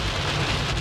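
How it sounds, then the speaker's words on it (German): Rain from a small thunderstorm drums steadily and loudly on a light aircraft in flight, a dense continuous hiss with a low rumble beneath, and no voices. "Wir sind hier in so kleine Gewitter reingekommen."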